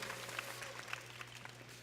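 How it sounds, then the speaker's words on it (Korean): Faint applause from a church youth service congregation, soft and steady over a low hum, heard from a distance. "다시 한번 박수 한번. 네, 감사의 박수."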